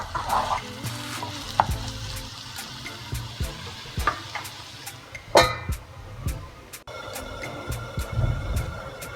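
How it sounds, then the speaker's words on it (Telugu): A pan of chopped tomatoes for brinjal curry cooks and is stirred, with a low steady sizzle under scattered scraping and clanking of a spoon against the pan, close and moderately loud. "దీన్ని ఒకసారి కలిపేసుకుని మళ్ళీ అలాగే మూత పెట్టి ఉడికించుకుందాము."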